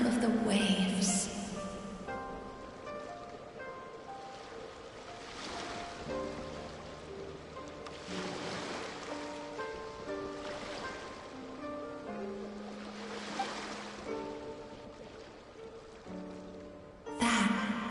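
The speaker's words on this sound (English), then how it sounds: "Go to where you can hear the sound of the waves." Ocean waves wash in as slow, soft swells every few seconds, blended with a gentle melodic music track.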